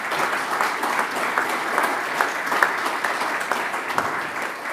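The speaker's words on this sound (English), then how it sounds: "Applause" Audience applause at a conference in Vienna, a steady, moderately loud patter of many hands with occasional sharper claps that continues evenly for several seconds.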